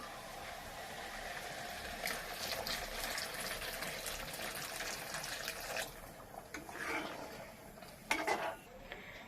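Hot water pours into a cooking pot in a home kitchen, a steady faint splashing stream with a few metallic clinks of utensils and pot near the end, no talk.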